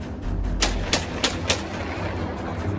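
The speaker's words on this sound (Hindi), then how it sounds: "AK-47 से एक के बाद एक कुल 5 गोलियां चलाता है।" AK-47 rifle fired in a quick succession of sharp reports, four or five evenly spaced bangs at moderate distance over a steady low background hum.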